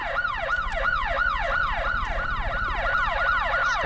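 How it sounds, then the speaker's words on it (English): Wailing emergency sirens from the PS2 video game Headhunter, a repeating rising-and-falling whoop cycling about every third of a second, loud and continuous with a low engine hum beneath. "turn off the sirens"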